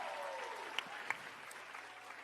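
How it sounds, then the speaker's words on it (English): An audience keeps clapping at a Girls Who Code event, a dense, steady wash of applause at moderate level with a few sharper individual claps standing out. "Let's give another round of applause"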